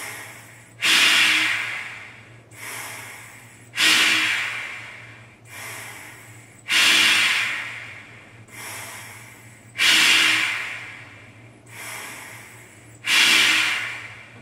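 Forceful breaths pushed through a PowerLung breathing trainer come in a steady series of about eight loud, close bursts, each a sharp rush of air that tails off, spaced roughly two seconds apart.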